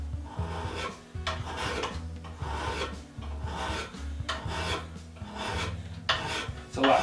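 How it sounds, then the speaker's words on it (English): A hand file is drawn across a small steel T-nut for an AXA tool post: about six rhythmic rasping strokes, each a close, gritty scrape separated by short pauses. "It's called draw filing. It cuts faster because it puts the teeth at a shearing angle on the part."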